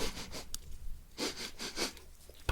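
Several quick sniffs in a row, close up and separated by short pauses, with no speech.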